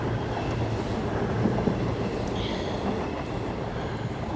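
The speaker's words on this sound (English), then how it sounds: "At least one train's still running." A train runs at London's Paddington Station during extreme weather, a steady, close rumble of wheels and engine filling the station with a constant drone and faint high squeals, no talking.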